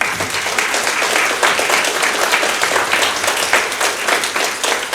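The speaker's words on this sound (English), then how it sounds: "So please join me in a round of applause." Loud, sustained applause from a large crowd at a residents association meeting, dense clapping that holds steady throughout.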